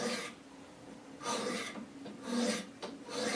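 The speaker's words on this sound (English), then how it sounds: "I'm going to grab my 200 grit stones, and I'm just going to do 2 light strokes per side on this micro bevel" 200 grit stones on a Wicked Edge sharpener stroke along a knife's micro bevel, giving four short, close, rasping passes separated by brief pauses.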